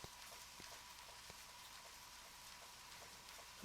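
Steady rain falls in the video game Deadly Premonition, a faint, even hiss of drops pattering on surfaces with no talking over it.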